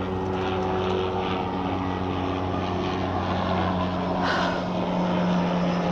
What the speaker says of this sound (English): come the helicopter right over my face